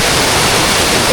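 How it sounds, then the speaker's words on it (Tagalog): Waterfall in a forest in the Philippines, a tall fall of clean flowing water, pouring as a loud, steady, broadband roar with no pauses, close by and alone. "ayun ang magandang falls"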